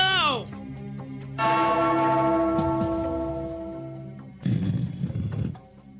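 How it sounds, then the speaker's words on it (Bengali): A bell is rung in an animated comedy scene. Its bright tone rings out and fades slowly over a few seconds, followed by a short clattering, rattling burst. "ওই ঘন্টাটা বাজাও, বাজাও।"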